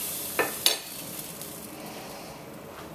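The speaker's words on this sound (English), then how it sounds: "Give it a stir." Curry potatoes with leftover stewed chicken being stirred in a pan, two quick scraping strokes near the start, then a soft steady sizzle and faint clinks with no talking.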